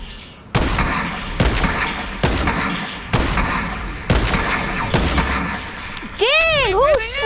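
Loud gunfire and sniper shots in a shooter video game, a series of sharp, evenly spaced blasts about a second apart, followed by a swooping, warbling game sound effect at the end.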